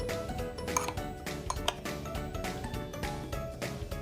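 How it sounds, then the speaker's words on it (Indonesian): Eggplant pieces stirred through seasoned flour in a bowl, giving repeated light clinks and taps of utensil against dish in an uneven rhythm, close and moderately loud, with no talking. "Lalu kita aduk hingga terongnya terbaluri tepung."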